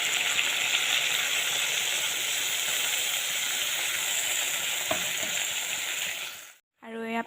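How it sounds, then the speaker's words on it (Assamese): Water poured into a hot pan while cooking a fish dish over a medium flame sets off a loud, steady sizzle and bubbling that runs for several seconds, then cuts out abruptly near the end. "এয়া পানী দিয়াৰ পিছত উতলিবলৈ আৰম্ভ কৰিলে"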